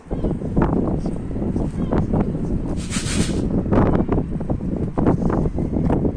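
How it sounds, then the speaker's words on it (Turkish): Strong wind buffets the microphone outdoors by a pigeon coop in loud, gusty bursts, rumbling low throughout with a brief rustle partway through. "Şu an rüzgar bayağı bir esiyor. Muhtemelen sesi de bozuyordur."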